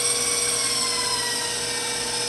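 An electric mixer beating eggs and sugar whirs steadily at high speed, a constant buzzing drone with no voices over it.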